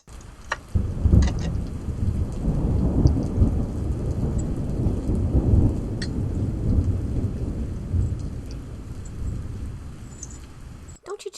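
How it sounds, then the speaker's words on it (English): A heavy thunderstorm outdoors, with deep rolling thunder rumbling continuously over steady rain for the whole stretch, loud and close, with no talking. "we're having a huge thunderstorm outside right now."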